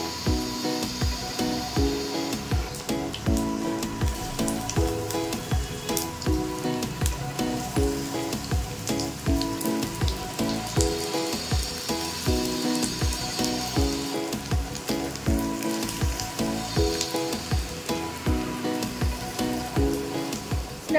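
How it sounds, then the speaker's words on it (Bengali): Onion pakoras fry in hot oil, giving a dense, steady crackle and sizzle that runs without a break, close and fairly loud, with faint tonal sound beneath. "এখানে এই যে পেঁয়াজ পকোড়া ভাজবো"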